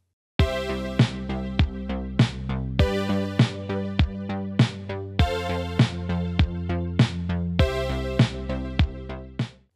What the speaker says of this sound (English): With a basic accompaniment of drums, bass, and chords, it sounds like this.